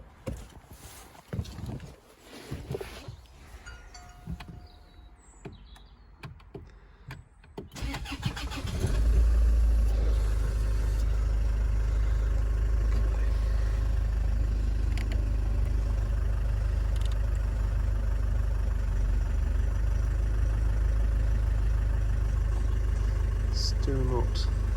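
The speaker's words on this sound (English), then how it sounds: "Now if I go round and start the engine," A Land Rover Freelander 2 engine cranks and starts, then settles into a loud, steady idle that continues to the end, following a stretch of quieter handling noises.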